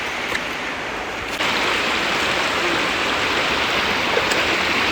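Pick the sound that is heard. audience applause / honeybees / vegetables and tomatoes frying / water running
water running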